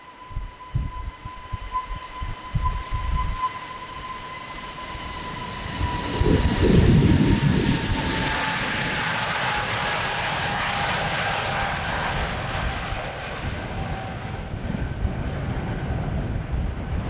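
An Airbus A320neo jet departs runway 36L at Amsterdam Schiphol on a windy day, its engines building into a loud roar that swells midway, then holding as a broad, steady rush with a high whine fading slowly.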